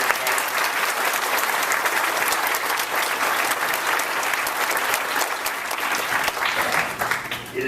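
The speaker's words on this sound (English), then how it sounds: "Let's give our student speakers one more round of applause." Dense, sustained applause from a graduation ceremony audience fills the whole stretch at an even, loud level.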